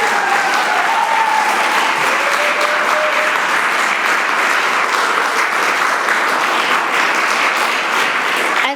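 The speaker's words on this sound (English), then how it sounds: "Let's give them one more round of applause." Sustained loud applause from a large audience, steady and dense throughout with no pause.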